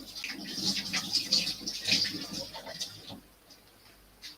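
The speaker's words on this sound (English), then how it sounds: "Wash my hands." Hands being washed under a running tap while preparing lime water, a steady soft splashing hiss that fades out toward the end.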